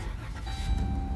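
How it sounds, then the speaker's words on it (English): The engine of a 2016 Dodge Caravan starts and settles into a low, steady idle heard close by for about a second, with a faint tone running over it. "Car starts"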